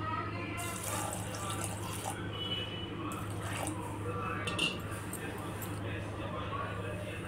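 Water is poured and splashes into a bowl of semolina and vermicelli for dosa batter, a soft trickling wash heard under someone speaking over a low steady hum.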